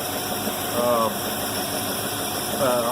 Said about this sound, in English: The engine's warmed up. It's been running for a while now.